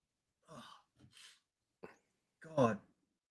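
A few short breathy bursts end in a louder, sharp human sneeze, close by in a quiet room.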